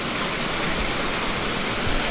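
A water wheel at a sugar cane mill in Grenada gives off a steady, dense rush of splashing water, loud and unbroken, with no voices.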